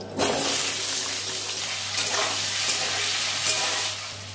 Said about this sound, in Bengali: এই ডুমো ডুমো আলু কাটা আছে, ভেজে নেব।